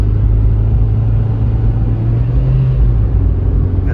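A Honda CR-V RD1/RD2 rolls down the road on a cold test drive, a steady low engine and road rumble filling the cabin with no talk.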